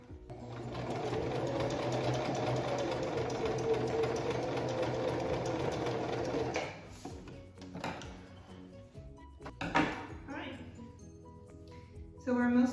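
A sewing machine stitches a youth superhero face mask, running steadily and close for several seconds before stopping, followed by quieter handling clatter and a person talking.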